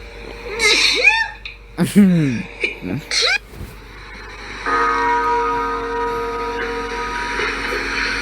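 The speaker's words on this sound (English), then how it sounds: "I'm gonna sneeze." A sudden sneeze bursts out amid short vocal sounds, followed by a sustained ringing tone that lingers for several seconds.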